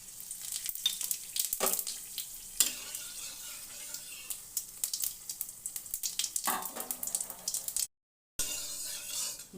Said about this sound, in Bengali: এতে দিয়ে দিলাম একটা শুকনো লঙ্কা ও গোটা জিরে দিয়ে দিলাম।